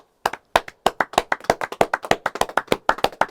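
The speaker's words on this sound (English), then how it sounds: "Can I get a round of applause?" Sharp, evenly spaced hand claps, roughly two dozen over a few seconds, from what sounds like a small group in a podcast studio, close and loud with no talking.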